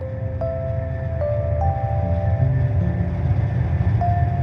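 A moving train rumbles steadily and loudly close by, with a dense low roar and faint tonal squeals or hums rising over it throughout, no talking.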